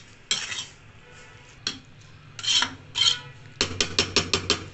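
A spoon mixes sweet zarda rice in a metal pot, giving scattered clinks and scrapes and then a quick run of rhythmic metallic taps, close by with no voice.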